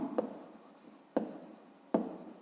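Handwriting numbers on paper for a math exercise, soft scratchy pen strokes with three sharp taps as the pen meets the page, close and quiet, no talk.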